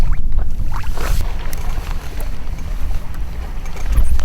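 A fishing boat's outboard motor runs on Lake Jocassee. A low, rumbling drone sits under heavy, gusting wind buffeting on the microphone, loud and close throughout.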